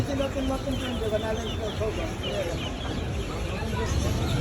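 Many chickens cluck and cheep in a constant noisy backdrop, with people talking and general market bustle throughout, at a poultry and duck market in Tongi Bazar, Bangladesh, among month-old Egyptian farm chicks and silkie chickens.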